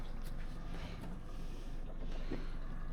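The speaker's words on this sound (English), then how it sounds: "I'm leaving my engine run because I need to put a bit of charge back in the batteries." Small fishing boat engine idling while anchored on Moreton Bay, a steady low rumble and drone that carries throughout with faint wind noise and no speech.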